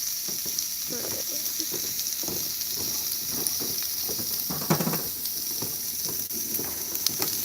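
Onions fry on a Blackstone griddle with a constant bright hiss, plus scattered pops and scraping taps of a utensil, heard up close.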